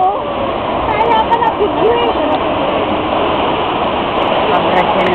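Ocean surf rolls and breaks along a beach at Shek O in big-wave conditions, a continuous loud wash of churning water with no clear gaps, and faint voices now and then beneath it.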